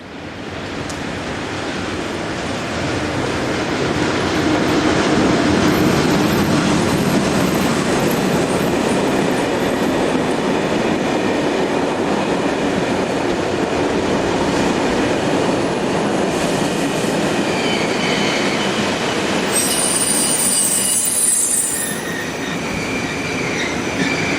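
Swiss Class Re 6/6 and Re 4/4 locomotives pulling a northbound freight train into Erstfeld: a loud, continuous rumble of wheels and wagons passing close by, with high metallic squeals near the end.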